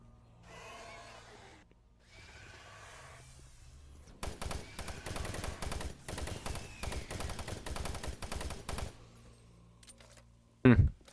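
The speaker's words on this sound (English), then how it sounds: "I think we're definitely gonna need the machine gun here" Machine gun fire in the video game Doom 3 comes as a sustained rapid burst of sharp, closely spaced shots lasting about five seconds, loud and close, after quieter game sounds and before one final loud hit.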